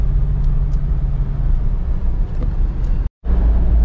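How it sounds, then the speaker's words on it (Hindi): A Mahindra Bolero accelerates with a steady, loud low engine rumble and road roar heard from inside, broken by a brief cut near the end before the drone resumes. "थोड़ा सा एक्सीलेटर पे पैर दिया, गाड़ी एकदम से भागती है, क्या टॉर्क है गाड़ी में।"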